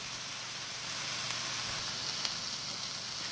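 Onions and mushrooms browning in olive oil in a cast iron skillet give off a soft, steady crackling sizzle, close and even, with a couple of tiny pops and no voices.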